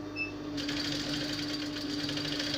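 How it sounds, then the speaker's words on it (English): Close up, a sewing machine runs steadily, stitching a pencil skirt seam with a fast, even mechanical whir and rapid needle clatter that starts after a brief quiet moment and continues without talk. "Sew with 1 inch seam allowance,"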